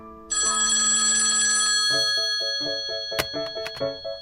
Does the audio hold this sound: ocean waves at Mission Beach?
no